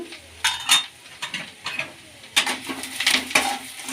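Byadagi chillies, cumin, ginger and garlic fry in oil in a pan, a soft sizzle broken by intermittent bursts of spatula scraping and metallic clinks, close and unaccompanied by speech.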